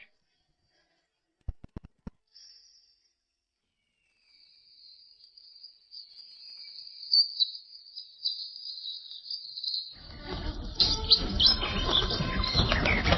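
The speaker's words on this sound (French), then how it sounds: "Pourquoi y a-t-il d'oiseaux qui affluent?" A flock of birds pours in, with high, thin chirping that begins faint and builds, then gives way to a dense, loud rush of fluttering and calls as they arrive.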